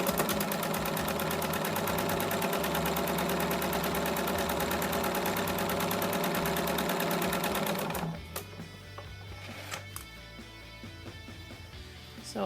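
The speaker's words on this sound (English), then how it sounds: "Now I'm going to stitch 1/4 inch to the right hand side of my line." A sewing machine runs steadily for about eight seconds, stitching a quarter-inch seam beside a drawn line on half-square triangle fabric, then stops, leaving faint handling clicks and rustles.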